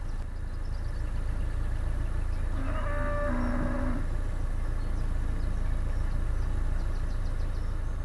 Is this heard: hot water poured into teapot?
no